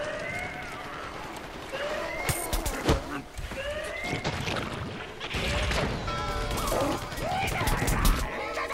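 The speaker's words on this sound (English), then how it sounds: "flamethrower fucking awesomeness right there" Flamethrower fire in Plants vs Zombies Garden Warfare, a steady roaring rush mixed with chaotic game explosions, hits and effects, continuous and fairly loud throughout.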